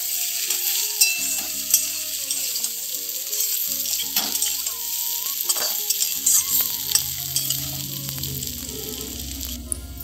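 Onions and potatoes frying in oil in a pan for a katla fish curry: a dense, steady sizzle with occasional light clinks and scrapes of stirring, close and unbroken, with no talking.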